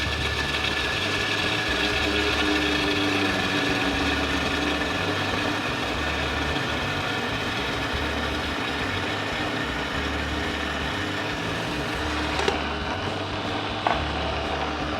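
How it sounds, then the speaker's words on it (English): A blender runs on low while hollandaise sauce is emulsified, a steady close mechanical whir that drones on without pause, with a couple of faint clicks near the end. "get your blender on very low and open up the top so you can add in while it's running"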